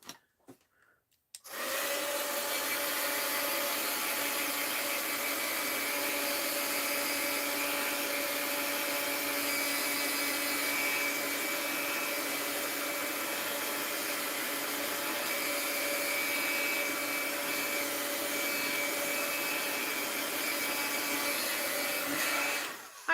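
A heat gun blows steadily close by, drying mixed-media art in a paper journal, with a loud continuous whooshing roar that starts after a few faint clicks and holds unchanged for over twenty seconds.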